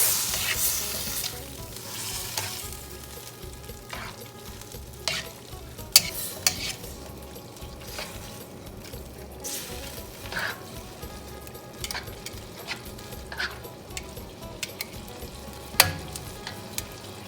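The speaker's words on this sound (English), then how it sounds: "Once you add your noodles, you need to use tongs to mix everything together." Pad thai rice noodles with chicken and shrimp stir-fried in a hot pan and tossed with tongs, giving a steady close sizzle broken by scattered scrapes and metallic clicks.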